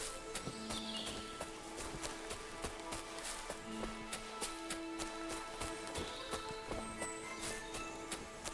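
A horse in the video game Kingdom Come: Deliverance II, its hooves clip-clopping in a steady rhythm of sharp knocks under soft sustained music.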